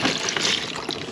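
Turkey brine liquid pours from a cup in a loud, close, continuous splashing trickle lasting about a second.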